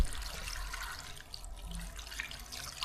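A steady stream of about half a litre of water pours and splashes continuously into a cooking pot, close and fairly even throughout.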